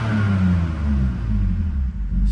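A 2019 BMW M2 Competition (411 hp) revs in sport mode while parked in neutral with the handbrake on. The engine gives a loud, steady deep rumble that holds near a fixed limiter for the whole stretch.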